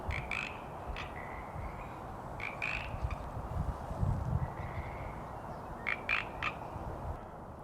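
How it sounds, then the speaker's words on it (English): Frogs croak outdoors in nature, giving repeated short rasping calls in irregular bursts over a constant soft background of ambient noise, with no talking. "And those frogs are really talking."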